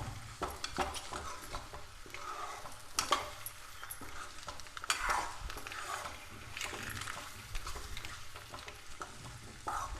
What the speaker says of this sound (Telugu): మనకి ఆ మిరియాల పొడి అంతా ఈ ముక్కలకు పట్టే వరకు కొంచెం వేయించుకుందాం.